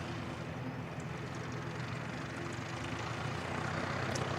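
A Singapore Airlines jet at Christchurch Airport gives off a broad, steady engine roar from a distance that swells slightly toward the end, with no voices over it.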